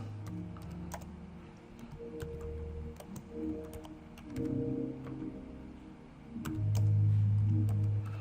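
Soft clicking keystrokes tap away irregularly on a computer keyboard during a typing test, fairly faint, with a low hum rising and falling underneath.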